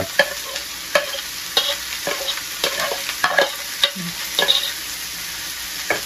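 Chopped banana flower is added to a hot pan and stirred, with quick repeated metallic scrapes and knocks over a constant frying sizzle, close and fairly loud.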